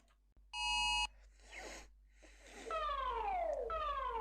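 Electronic alarm tones of an emergency alert system: a steady loud harmonic beep, then a break, then two descending swept warbling tones, close and alone.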